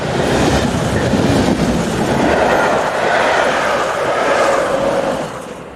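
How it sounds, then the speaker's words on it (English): Class 143 unit 143181 on a southbound stopping service passing close by, a loud continuous rumble of wheels and engine with rising and falling rail noise that fades slightly at the end. "143181 passes by with a southbound stopping service on 16th June 2002."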